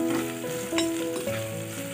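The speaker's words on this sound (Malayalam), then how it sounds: "വെളുത്തുള്ളിയും ഇഞ്ചിയും പയ്യൊന്ന് മൊരിഞ്ഞ് വരുമ്പോ നമുക്ക് അതിലേക്ക് പച്ചമുളകും സവാളയും കൂടി ചേർത്ത് കൊടുക്കാം." Garlic, ginger, green chilli and onion fry in a pan for a chicken gizzard and liver curry, a quiet steady sizzle with a couple of brief stirring clinks.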